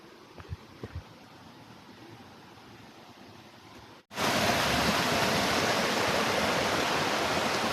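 Rushing water from a stream and waterfall near a rural home, starting faint with a few small knocks, then abruptly jumping to a loud, steady, broadband roar that fills the rest of the clip.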